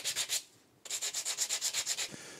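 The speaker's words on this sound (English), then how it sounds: "So every single piece now needs to be sanded." Rhythmic hand sanding on the corners of pallet wood pieces: quick, even back-and-forth rasping strokes, close and fairly quiet, pausing briefly before a steady run of about a dozen more strokes.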